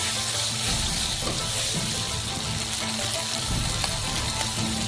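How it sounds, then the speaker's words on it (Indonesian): Small chillies and black beans fry in a hot wok, giving a steady, fairly loud sizzle with faint stirring and clinks over its nearly five seconds, with no talking. "Pertama, goreng sedikit."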